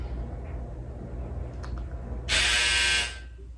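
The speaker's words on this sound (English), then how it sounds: "that was my dryer" A clothes dryer's finished buzzer sounds once as a loud, steady electronic drone lasting under a second, after a quiet room with faint background noise.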